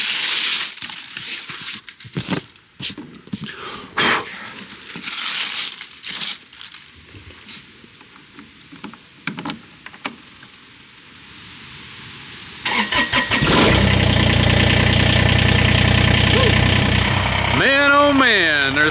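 A Kubota BX23s diesel tractor sitting outside on a chilly fall day cranks and fires up, settling into a loud, close, rattling idle after a stretch of handling noises and rustling.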